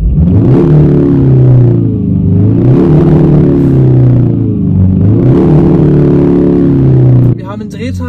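A 2020 Kia ProCeed GT with 204 hp accelerating hard in sport mode, its sound generator giving a loud, steady droning engine note heard from the cabin that rises and falls through gear changes, cutting off abruptly near the end.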